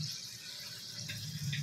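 Water runs from a kitchen tap while adobo is being cooked, a steady close splash with no talk over it.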